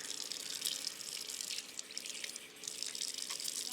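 Tap water running into a sink for washing the face, a steady bright splashing hiss with small drips, close by and alone.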